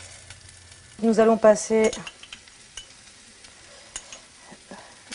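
Courgettes simmer in a pan with thyme, mint, oregano and savory, producing a low, continuous sizzle; a person speaks briefly over it near the start.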